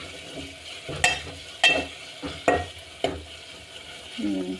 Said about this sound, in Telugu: అల్లం వెల్లుల్లి పేస్ట్ వేసి మంచిగా కలుపుకోవాలి